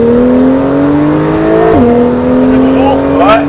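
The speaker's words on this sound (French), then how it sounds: "Allez, gaz à fond." A Porsche 911 Carrera S on the Nogaro circuit pulls hard at full throttle, its loud steady engine tone climbing, dropping briefly at a gear change and rising again, with voices speaking over it.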